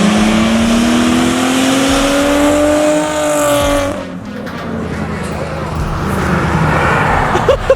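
A Nissan 370Z with a Tomei titanium exhaust roaring loudly as it accelerates, engine pitch climbing, then passing and fading into a rougher, distant exhaust rumble.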